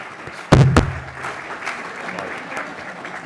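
Audience applause at a talk about people, plants and partnerships, with two loud, close claps right by the microphone at the start, then steady crowd clapping continuing behind.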